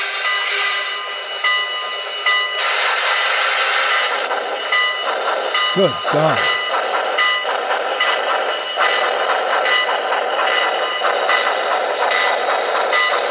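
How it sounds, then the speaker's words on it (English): Sound system of a model N&W Y6 steam locomotive running on a home layout, playing a loud, sustained whistle and bell over steady mechanical chuffing, with a man's brief exclamation partway through. "So let's blow the whistle"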